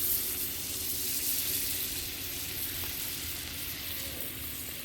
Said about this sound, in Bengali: 1 চামচ বাটার দিয়ে দিয়েছি আমি কড়াইতে।